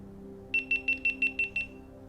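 Seven short, evenly spaced electronic beeps sound in quick succession as a GoPro Hero 9 powers off, clear and high-pitched over a faint low hum.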